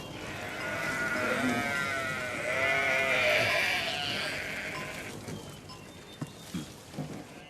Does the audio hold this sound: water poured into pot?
no